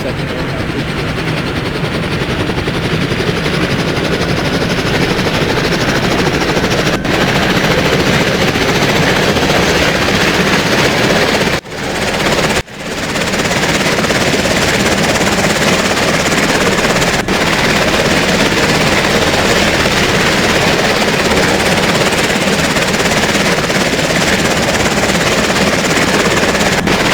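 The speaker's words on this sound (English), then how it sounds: "And then I'll go ahead and show you the second helicopter." Helicopter in the EmergeNYC video game, a loud, steady rotor and engine drone that fills the whole stretch with a dense rumble and barely dips.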